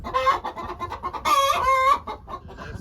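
Chickens on a farm clucking and calling in a close, busy series of short squawks with a louder burst in the middle, no talking.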